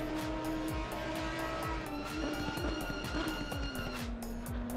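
Audi race car in the Assetto Corsa Competizione sim, its engine droning steadily at high revs through a chicane and over curbs, with rising and falling pitch, bumps from the track and a loud, continuous tone throughout.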